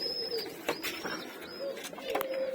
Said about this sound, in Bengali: আমার এই পাখিগুলো অনেক সুন্দর সাউন্ড করে